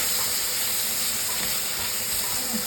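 Tomatoes for fried rice fry in a pan with a dense, close sizzle and hiss throughout, with faint scraping as they are stirred.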